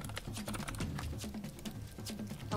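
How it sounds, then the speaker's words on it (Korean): Fast, uneven clicking of a computer keyboard being typed on, fairly faint and continuous, with a low tonal hum running underneath. "그 키보드 소리 다 들리니까 좀 그만 좀 치세요"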